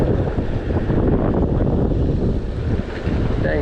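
Strong wind buffets the microphone beside an Arkansas creek, a continuous loud rushing roar with no break and no speech.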